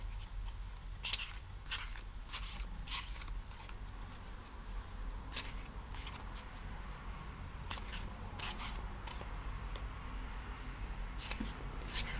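Repeated crisp papery flicks and slaps of tarot cards being shuffled, in irregular bursts over a steady low background hum.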